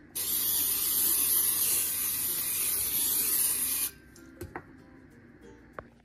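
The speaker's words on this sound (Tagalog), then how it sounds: "Tapos isprayin ulit natin sila ng ating cooking oil sa taas." Cooking oil spray hisses onto breaded fish strips in an air fryer basket in one steady, close burst of about four seconds, followed by a few faint clicks and light handling.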